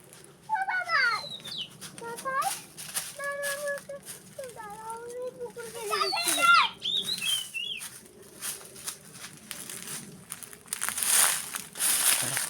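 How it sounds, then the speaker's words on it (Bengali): Birds call from somewhere inside a bamboo grove beside an open field, sending bright chirps and whistled phrases in scattered bursts at moderate distance, with soft rustling and faint background noise between calls. "সুন্দর পাখির আওয়াজ হচ্ছে বাঁশ বাগানের মধ্যে কোথাও এক জায়গায় আছে"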